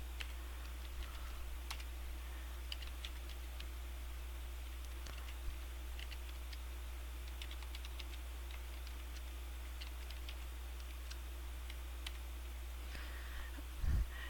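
Sparse, faint clicks of typing on a computer keyboard, tapping irregularly over a steady low hum, with a louder knock near the end and no talking.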